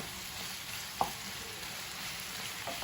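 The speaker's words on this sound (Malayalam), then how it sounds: "നമ്മൾ നന്നായിട്ട് ഇത് ഇളക്കി കൊടുക്കുക" Tomato, ginger, green chili and garlic sizzle steadily as they fry in a pan while being stirred, with one brief clink of the utensil partway through and no talking.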